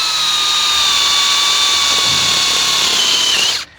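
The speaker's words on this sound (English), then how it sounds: "just follow that mark to the centre and just drill that through" A power drill bores through a steel-belted tyre, a loud steady whine with a high-pitched tone that holds for a few seconds and then cuts off abruptly.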